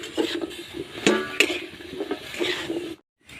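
A utensil stirs potatoes and prawns in a pan while cooking with pipul greens, with scraping, clinking knocks and light sizzling, then a brief silent gap near the end.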